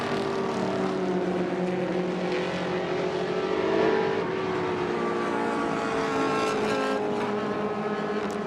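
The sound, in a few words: vintage race cars racing, including a Datsun 2000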